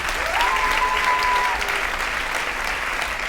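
Steady, dense applause from a live concert audience at a show, sustained for the whole stretch at even loudness, with a faint whistle-like tone rising over it early on.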